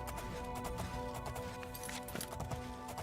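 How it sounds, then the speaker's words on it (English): Horse hooves clip-clop steadily in a fantasy video game while riding, a quick continuous rhythm layered over busy game music and ambience, with no voices. "My beautiful horse."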